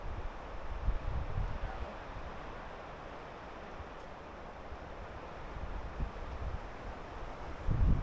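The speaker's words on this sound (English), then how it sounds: "Wait out the wind." Wind blowing across open backcountry country in Yellowstone National Park. It makes a steady low rumble with gusts that swell near the start and again at the end.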